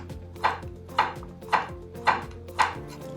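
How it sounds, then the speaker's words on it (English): A Santoku knife cuts thin, precise slices of food on a cutting board, five crisp evenly spaced chops close up with no talking. "I like using it when I want really thin, precise slices"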